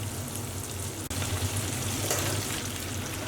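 A blooming onion fries in hot oil, a steady dense crackle and sizzle that holds even and close throughout, with no talking.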